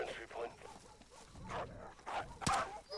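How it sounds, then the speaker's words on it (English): Dogs bark a few times at a distance in Call of Duty: Modern Warfare, mixed in with ongoing conversation and game sounds, with one sharper sound near the end. "I hear dogs."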